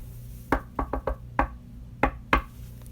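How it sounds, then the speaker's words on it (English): Several sharp knocks on a door in an uneven pattern, a quick cluster followed by a few spaced raps, close and clear over a faint low hum. "she heard another knock"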